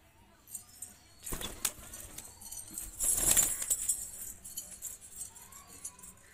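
Desi Giribaz pigeons burst into flight on release, a few sharp bursts of wing flapping followed by a louder flurry of beating wings, fairly close, with faint background noise.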